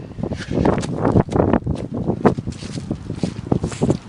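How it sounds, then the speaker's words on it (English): Strong wind blows outdoors before a storm, buffeting the microphone with a steady, rough roar and surging gusts, with rustling mixed in throughout. "We're outside and it's really windy."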